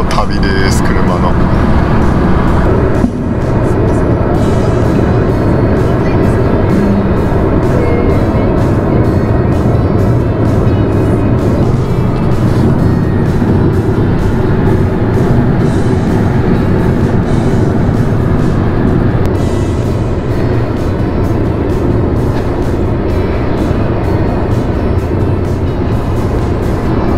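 Steady road rumble from inside a car cruising on a highway toward the Kenai Peninsula in Alaska, a constant broadband drone of engine and tire noise throughout, with people talking over it.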